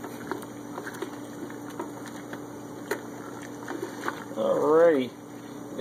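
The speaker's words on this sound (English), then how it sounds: "Best to get the water to a good hot boil." A pot of water heating toward a boil with grated soap dissolving for homemade laundry detergent, a low steady bubbling hiss with faint clicks, briefly overlaid by a voice.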